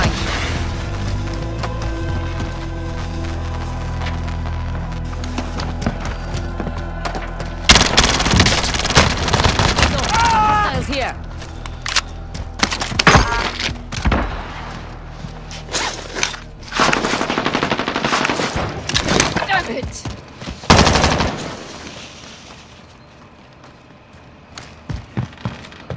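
Automatic gunfire in Call of Duty: Modern Warfare, with long, loud bursts of rapid shots and booming impacts that come close together. Quieter stretches fall between the bursts, and brief voices can be heard in places.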